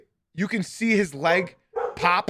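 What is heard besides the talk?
dog barking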